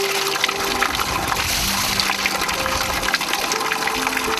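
Clear mountain spring water pours steadily from a village fountain in Nezhilovo, a continuous, close, full gushing splash with no voices.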